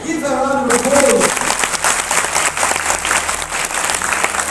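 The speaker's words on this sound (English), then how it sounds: "Give her a round of applause" Loud applause breaks out at a religious youth talk event, a voice trailing off at the start before dense clapping from a large crowd fills the room and carries on steadily.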